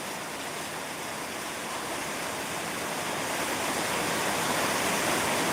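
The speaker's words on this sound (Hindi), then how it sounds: "आवाज सुनिए, कितना तेज बारिश हो रही है आज।" Heavy rain pours down in a steady, dense roar, loud and unbroken throughout with no voices, building slightly toward the end.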